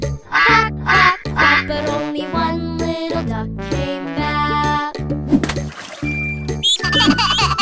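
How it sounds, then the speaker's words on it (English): Cartoon duck quacks in a cheerful children's nursery rhyme, repeated rhythmic quacking over bright music with bells and jingles, loud and upfront. "Mother duck said, quack, quack, quack."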